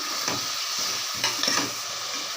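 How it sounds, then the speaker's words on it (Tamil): Onion and tomato sautéing in a pan with salt, a steady close sizzle broken by a few stirring scrapes, and no talking. "இது நல்லா வதங்கிட்டுருக்கு"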